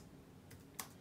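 A couple of quick keystrokes on a computer keyboard while entering a calculation, soft and close, with a sharper click near the end and quiet background hiss.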